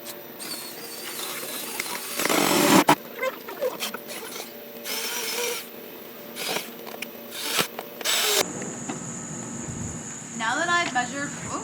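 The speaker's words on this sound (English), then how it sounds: "I'm actually going to be drilling this bottom board into the base of the doghouse for support." A power drill drives a bottom board into a wooden doghouse base in short whirring bursts with pauses, close and fairly loud, followed by a steady whine at the end.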